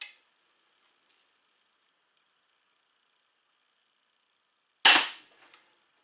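A crossbow fires a 100-grain field point with a single sharp, loud snap close by, followed by a brief rattling decay, in otherwise near silence after a faint click at the start.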